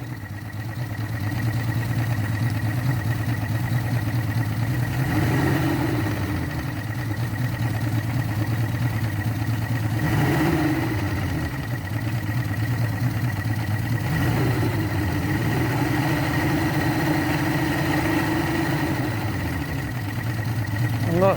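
A Yamaha engine recently repaired with JB Weld and topped up with extra break-in oil idles in neutral, a steady low rumble with slight unevenness and a few faint swells in pitch.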